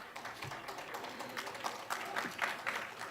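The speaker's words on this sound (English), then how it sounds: "you're desperate to clap for me" Scattered clapping from an audience at a county government State of the County address, fairly faint and dense with faint murmurs mixed in.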